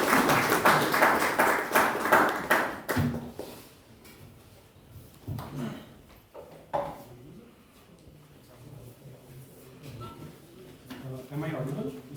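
An audience at a history talk applauds briefly for a few seconds, then the clapping dies away into quiet room noise, handling sounds and speech.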